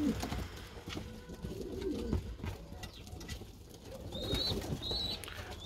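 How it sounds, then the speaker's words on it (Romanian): Pigeons cooing in a loft, low rolling coos repeating over a busy background of rustling and faint chirps, fairly close. "Mai filmez și o porumbe."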